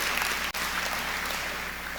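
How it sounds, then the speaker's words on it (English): A large crowd at a university fall matriculation convocation applauds in a steady, even wash of clapping that continues without a break. "you can give them a round of applause"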